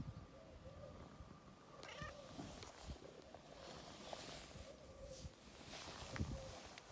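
A domestic cat meows faintly somewhere in a field at the edge of woodland, its short cries rising over a steady outdoor background with rustling, and no one talking.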